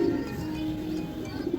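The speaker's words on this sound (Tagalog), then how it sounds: "Ito yung pinakabatang ibon." Young racing pigeons about four months old coo steadily and close by, a low continuous throaty hum with soft swells, heard alone without talk.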